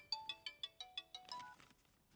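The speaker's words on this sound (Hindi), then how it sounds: "फोन की घंटी बज रही है।" A phone rings with a rapid electronic trill, six or seven quick chirping pulses that trail off, fairly faint.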